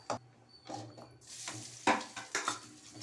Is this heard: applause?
no